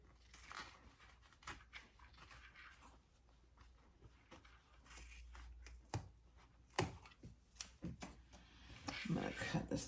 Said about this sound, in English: now I am going to cut off my excess zipper on both sides